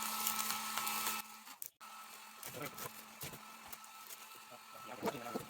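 A heat gun on low heat blows steadily while shrinking shrink wrap around a gift basket, a continuous airy whoosh that cuts out briefly and resumes, with a few handling bumps.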